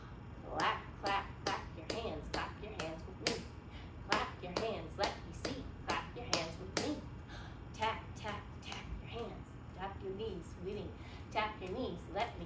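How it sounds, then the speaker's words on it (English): Rhythmic hand clapping along to a children's rhyme at a library storytime, a steady series of sharp claps in time with a woman singing and children joining in. "Clap, clap."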